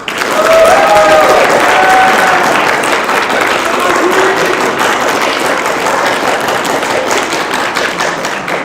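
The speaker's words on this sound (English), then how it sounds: "Let's hear a round of applause for minds over here" A university debate audience claps and cheers loudly for one side, a dense sustained roar of hands with a few whoops rising above it early on, then holding steady throughout.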